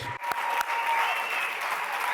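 Loud applause from the audience at a port industry sustainability panel, a dense, continuous wash of clapping that swells right after a brief gap and holds steady.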